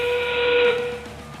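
A single sustained whistle blast marks the start of the end game at a 2017 FIRST robotics district event in Auburn, loud and steady over arena noise before fading.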